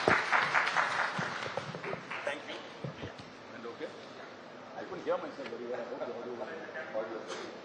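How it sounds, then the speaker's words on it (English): An audience at a live summit breaks into applause, a dense wash of clapping that starts loud and gradually thins out over several seconds, with voices talking underneath. "Big round of applause, ladies and gentlemen."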